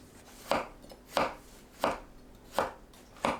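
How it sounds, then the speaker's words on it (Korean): Knife cutting potatoes into thick half-moon pieces on a cutting board, five evenly spaced crisp chops close up in a quiet kitchen. "감자는 반달 모양으로 살짝 도톰하게 썰어주세요."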